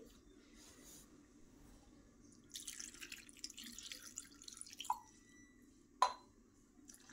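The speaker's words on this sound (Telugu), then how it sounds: "1 గ్లాస్ వాటర్ వేసి బాగా నీట్గా వాష్ చేసుకోవాలి" Soft splashing and swishing of water in a bowl as soaked red chilies are washed, with a couple of sharp clinks and drips, close by and fairly quiet.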